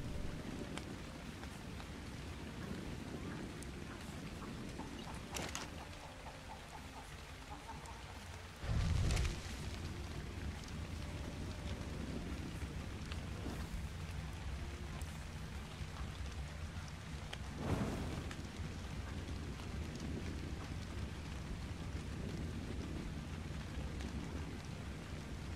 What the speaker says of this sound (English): Oh man, not the rain again.